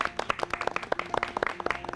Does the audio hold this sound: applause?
yes